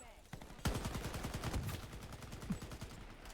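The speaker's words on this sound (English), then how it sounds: "A little bit suppressing fire." Gunfire in the online shooter Shatterline sounds as rapid automatic bursts that rattle in a quick, even rhythm, starting with a sharp shot and then running as sustained suppressing fire at moderate volume.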